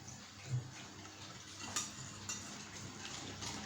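Cornstarch, sugar and a little milk are stirred together in a bowl, giving quiet, continuous mixing with a few soft clinks of utensil against the bowl.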